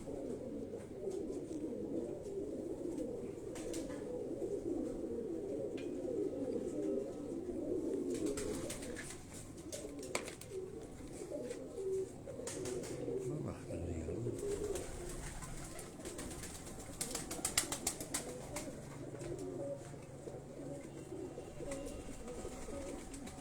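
Pigeons coo on a rooftop in Karachi, soft throaty calls repeating in overlapping layers at moderate distance, with occasional wing flutters and faint clicks against a quiet outdoor background.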